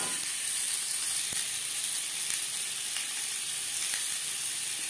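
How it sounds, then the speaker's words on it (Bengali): Boiled, peeled potato cubes seasoned with salt and turmeric fry in a pan, giving a steady, dense sizzle that stays even throughout with a few faint clicks from the pan. "লবণ হলুদ দিয়ে আলু হালকা করে ভেজে নেব।"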